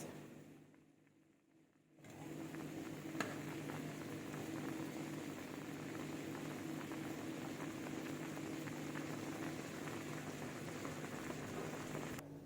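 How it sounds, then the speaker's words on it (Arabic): Water boiling steadily in a pot on a kitchen stove, a continuous bubbling hiss that starts abruptly after a quiet opening and stays even and close for the rest. "اغلي بقى كده"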